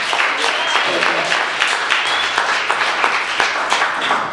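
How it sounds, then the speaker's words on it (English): An audience at a community open house for the new Martin Luther King Hospital claps hands, a dense, even patter of many hands with small periodic swells. "You ought to clap your hands in anticipation"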